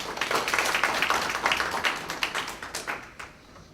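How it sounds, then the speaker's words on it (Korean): Audience applause at a Korean food and drug safety public forum, a dense patter of many hands clapping in a hall, steady then thinning and fading out over a few seconds. "연구 결과 그 자세하게 배경부터 설명해 주신 교수님께 다시 한번 큰 박수 부탁드립니다"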